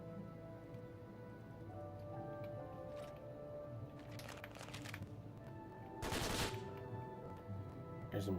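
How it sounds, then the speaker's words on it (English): Machine gun fire in modded Skyrim, quiet distant bursts of rapid shots crackling over a steady background hum, with one louder burst partway through. "There's a machine gun."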